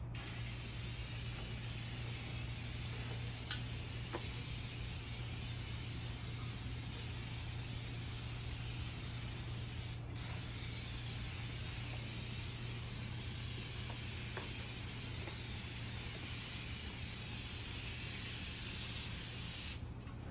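A disinfectant sprayer gives a steady, continuous hiss that stays loud and even from start to finish, with a constant low hum beneath it and no talking.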